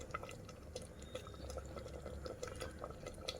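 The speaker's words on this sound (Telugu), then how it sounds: "ఆ వాటర్ యాడ్ చేసేస్తానండి" Water is poured into dal simmering in a pan for spinach dal, giving a soft, faint splashing and dripping that runs continuously and close, with no talking.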